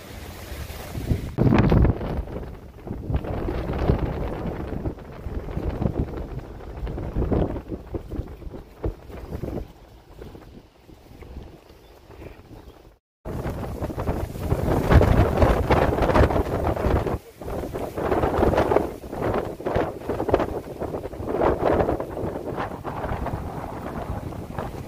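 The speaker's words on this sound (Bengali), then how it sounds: "হাওয়া, দাঁড়িয়ে থাকাই মুশকিল হয়ে যাচ্ছে ফোন নিয়ে।" Strong gusting wind roars into a handheld phone microphone on a trek through Dzukou Valley, loud and buffeting throughout with one brief cut.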